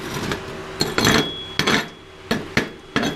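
A welder chips slag off a 7018 stick weld bead: about a dozen sharp metallic taps and scrapes come in irregular bursts, close and crisp with no talking.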